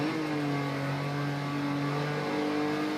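A Porsche 911 engine pulls hard on the Nordschleife at the Nürburgring, rising steadily in a continuous, loud, close-up drone with a strong tonal whine that climbs slightly over three seconds, alone with no talk.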